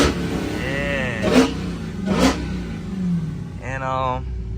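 A Go Mango Dodge Charger Widebody Hellcat revving its exhaust in the city, a couple of rising engine surges heard from inside or nearby, mixed with people talking.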